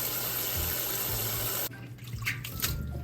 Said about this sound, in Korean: 2번 정도 헹궜습니다